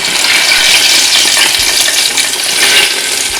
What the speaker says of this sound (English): I'm about to pour in some hot oil, and you can see it sizzling right there